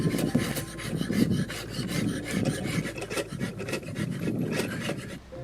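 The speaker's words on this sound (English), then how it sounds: "I'm actually using my draw knife to push for now" Draw knife pushed along ash wood to shape a longbow, giving close, continuous rasping shaves in quick repeated strokes.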